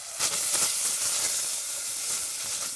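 Bacon sizzles steadily as it renders down in a pan, a close, continuous bright hiss of frying fat with small crackling pulses and no talking.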